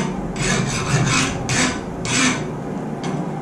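A metal file rasps across a hardened steel knife blade in repeated scraping strokes, about five passes with short pauses between them, close and clear with no talk.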